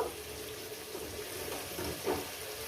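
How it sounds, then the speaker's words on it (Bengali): Boiling water is poured into a rohu fish curry with green banana and potato, giving a soft, steady hiss and sizzle as it hits the hot pan, faint and without talk. "একদম ফুটন্ত জল দিলাম"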